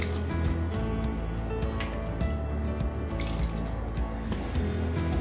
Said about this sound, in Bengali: এবার এই ফুটন্ত জলের মধ্যে আমি ভিজিয়ে রাখা ডালটা দিয়ে দেব।